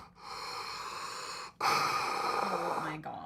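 A voice imitates heavy breathing from a dream scene, one long drawn-out breath followed after a short break by a second, louder, rasping exhale, performed close to the microphone.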